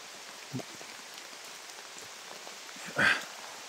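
Steady light rain patters on surfaces, a soft constant hiss with a couple of brief louder knocks.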